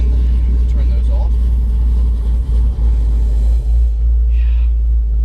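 A 2013 Chevrolet Camaro ZL1 engine runs at a steady, loud low rumble close by, with a few brief dips and a faint higher tone near the end, and no engine start is clearly marked.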